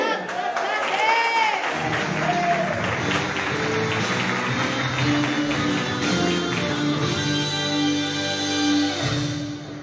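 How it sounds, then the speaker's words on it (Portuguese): A church congregation at an August worship service in Ibatiba claps and cheers for 29 years of blessing, a dense roar of applause with shouts and whistles, and sustained musical tones sound beneath it. "pode aplaudir"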